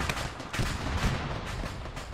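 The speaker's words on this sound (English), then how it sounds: "AT gets launched" An anti-tank launcher fired in Arma 3, a sharp whooshing blast amid a steady rumble of battlefield gunfire, followed by a heavy thump around the middle.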